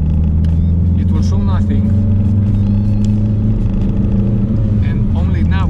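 BMW E90 engine pulling hard at full throttle in third gear from about 2000 RPM, a loud constant droning rumble inside the cabin, with someone talking over it.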